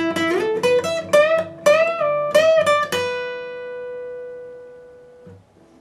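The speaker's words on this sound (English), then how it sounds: "Part 3 played in real speed will sound like this." Electric guitar playing part 3 of a song at full speed, a quick burst of picked and bent notes that ends on one long sustained note fading out, close and solo with no voices.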